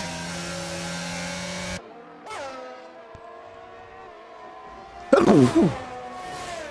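A single sharp, loud sneeze bursts out near the end, abruptly louder than the steady racing-game car engine drone heard throughout during a sim racing broadcast.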